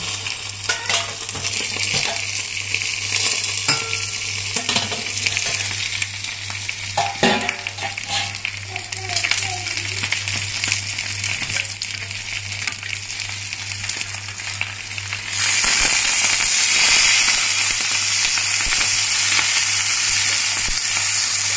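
Tilapia pieces fry in a pan with a loud, steady sizzle and scattered scraping and turning sounds as the fish is flipped. The frying swells brighter and louder near the end.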